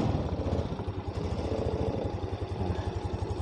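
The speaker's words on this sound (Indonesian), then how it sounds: "Suara mesinnya kita dengarkan." A restored 2001 Kymco Metica scooter with freshly reset valves and new oil idles close by, its engine putting out a smooth, steady, even putter throughout.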